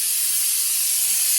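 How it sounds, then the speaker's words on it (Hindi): Chickpeas boil in a pot on a home kitchen stove, sending out a loud, steady, high steam hiss that holds unbroken from start to end, close by, with no talking over it. "यहाँ पर बन रहे हैं चने बॉईल हो रहे हैं"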